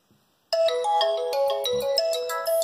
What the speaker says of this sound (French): alors sonnerie par défaut, sonnerie d'alarme.